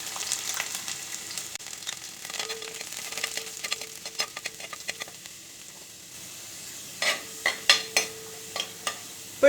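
Ginger, garlic and curry leaves fry in a pan with a steady close sizzle, broken by several sharp stirring scrapes and crackles toward the end, with no voices.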